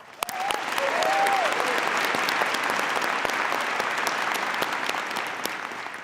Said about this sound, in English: let's give a big round of applause, not only to the winners, but all the finalists